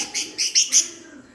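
A peacock gives four quick, bright chirping calls in a rapid series, fairly loud and close, then falls quiet in a calm setting with no speech.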